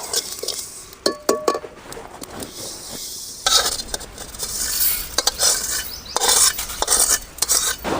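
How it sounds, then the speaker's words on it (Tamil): Sesame seeds frying in a pan on a home kitchen stove, giving a steady crackling sizzle broken by sharp metallic clinks and scrapes of a spoon stirring against the pan. The sound is close up and no one speaks. "எள்ளு நல்லா பொரியுது"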